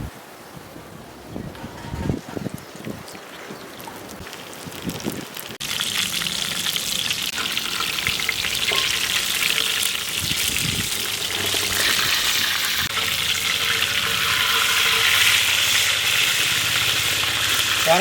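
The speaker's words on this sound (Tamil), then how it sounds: "அடுத்த மீனையும் பொரிச்சு எடுத்துக்கலாம்." Fish fried in a pan of hot oil for a Tamil-style fish fry, a few clatters and handling noises at first, then a loud, steady sizzle that carries on to the end, close and unbroken, with no talking.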